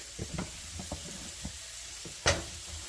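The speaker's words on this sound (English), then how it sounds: "our potatoes are getting some color on them, so we're going to go ahead and add our onions and peppers to the mix" Onions and peppers tumble into potatoes frying in a skillet for a Mexican breakfast hash, giving a steady sizzle with a few soft stirring knocks and one sharp clatter near the end, no talking.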